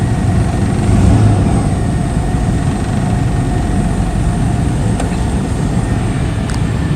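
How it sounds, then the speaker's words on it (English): A car engine idles steadily at close range, a constant low rumble with an even mechanical hum, at a salvage auction yard, with no talk over it. "It's idling fine."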